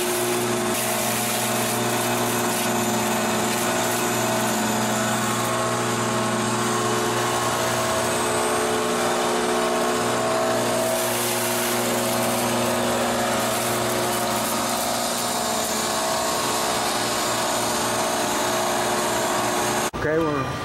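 A juicer motor runs continuously with its bare rotor spinning between batches of celery and spinach, giving a steady, loud, whining hum throughout.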